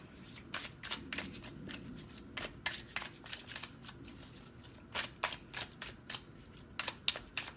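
Tarot cards are shuffled and drawn in quick, crisp bursts of riffling and snapping, faint and close, with short pauses between the flurries.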